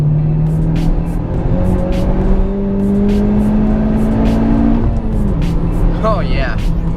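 A Honda Civic Type R climbs uphill under acceleration, its engine note rising steadily in pitch and staying loud and close throughout, with a gear change near the end.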